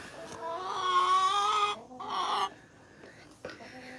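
Chickens clucking and crooning nearby, a long drawn-out cluck followed by shorter bursts and softer calls on a farm with goats, fairly quiet.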